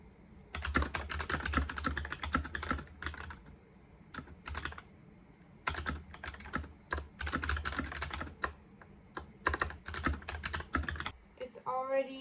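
Rapid bursts of computer keyboard typing while writing a novel, dense clattering keystrokes in long runs separated by short pauses, close and clear.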